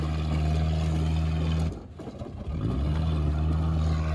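2020 Ford F-150 Platinum engine droning loudly without its muffler during winter donuts, a deep low rumble that dips briefly into a rough roar before settling back to a steady heavy hum.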